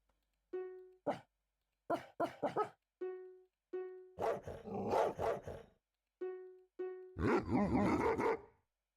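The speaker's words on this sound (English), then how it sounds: "Big wolf, angry wolf, classic wolf, cute wolf, grumpy wolf." Series of game wolf vocalizations, big, angry, classic, cute and grumpy variants, heard one after another: short tonal yelps and barks alternating with longer rough growling roars, fairly close and loud, no talking.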